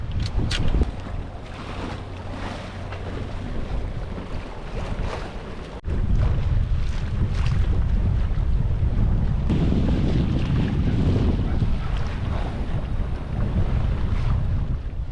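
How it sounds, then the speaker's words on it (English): Wind gusting steadily around a moored sailboat, a continuous loud rush and buffeting on the microphone with some water movement, growing stronger partway through. "The wind has just started kicking up really nicely"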